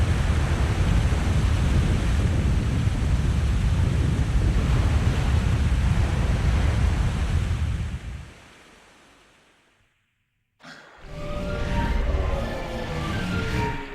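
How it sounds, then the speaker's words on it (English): In the Zelda game Twilight Princess, a loud, broad rush of water surges steadily and then fades to near silence. After a brief gap, quieter flowing water and light chiming effects return. "Here comes all the water."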